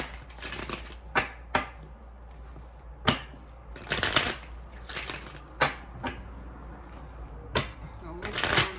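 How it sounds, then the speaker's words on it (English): A tarot deck is shuffled in several quick riffling bursts, close and fairly loud, with soft card handling and slaps between them and no talk. "I'm gonna start with the Kemper deck. And I'm gonna get, cards for the feminine, the masculine"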